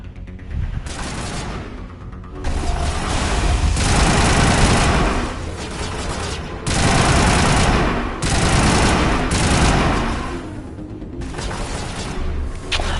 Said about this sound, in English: Good old assault rifle. Don't have to wait,